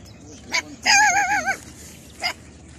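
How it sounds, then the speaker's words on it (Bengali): Two dogs bark outdoors on a foggy early morning, giving a short bark, then a longer wavering howl-like bark, and another single bark, fairly close over a quiet rural background. "এর জন্য ঘেউ ঘেউ শব্দ করতেছিল"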